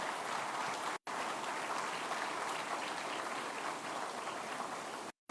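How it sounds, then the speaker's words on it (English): Continuous, even applause from an outdoor crowd at a veterans village groundbreaking ceremony in Memphis, heard fairly distant and steady, broken by two brief silent cuts. "Please give a round of applause to all our great partners."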